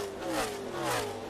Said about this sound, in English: The engine going a little bit south for the 19 car.